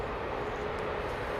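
A Lufthansa airliner at Heathrow Airport gives off a steady, loud jet roar for a brief moment with a constant low rumble and no talking.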